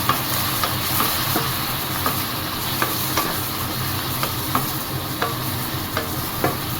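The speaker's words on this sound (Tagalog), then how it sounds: "Next is ihalo natin yung kamatis." Tomatoes being stirred into garlic frying in pork fat give a constant sizzle, broken by regular clicking scrapes of a spoon against the pan.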